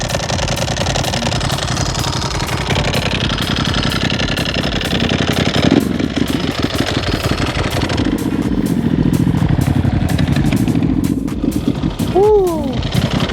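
A Ducati 999 motorcycle idles and revs close by, its uneven, throbbing engine note loud and steady, with the dry clutch rattling through the running and a couple of short throttle blips near the end.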